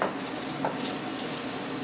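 Cooked turkey and onion frying in a pan give off a steady, close crackling sizzle that holds evenly throughout, with a faint scrape or stir near the start.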